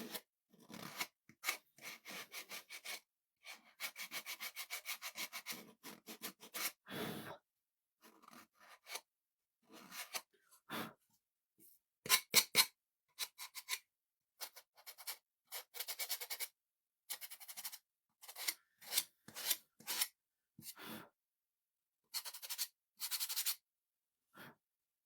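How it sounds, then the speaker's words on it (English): Wood edges being sanded by hand with a sanding block while making scarecrow and pumpkin fall decor, heard as irregular bursts of dry rasping strokes with short pauses between them. No voices. "I'm sanding the edges."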